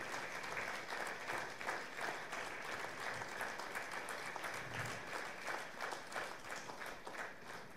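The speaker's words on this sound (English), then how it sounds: "can we please have a round of applause for my parents for planning, for executing," Guests at a wedding reception celebration give sustained applause, many hands clapping densely and evenly for several seconds without talk.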